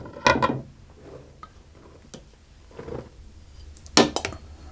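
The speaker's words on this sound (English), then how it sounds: "I'm going to add the dry ingredients in." Dry ingredients tipped into a creamed butter, sugar and milk mixture for speculaas pies, with several clattering clinks of bowl and utensils, a loud burst near the start and another toward the end, quieter rustling between.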